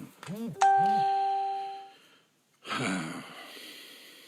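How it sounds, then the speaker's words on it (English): A single bright bell or chime strike rings out during a guided Kundalini meditation session, its clear tone ringing and slowly decaying over about a second and a half amid soft voiced sounds, followed by a pause and then quiet talking. "try not to let that bell or that chime interrupt you"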